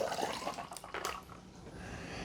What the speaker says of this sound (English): Let's add 1 cup of water.